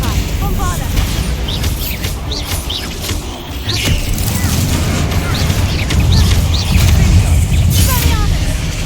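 A Bombarda spell blast in the video game Hogwarts Legacy booms loudly amid dense, continuous combat noise, with bursts of rumble and scattered bird-like chirps throughout.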